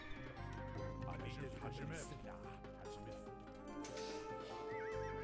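Cavalry horses in the Age of Empires II video game neigh and whinny over a steady background of game music, with a voice talking throughout.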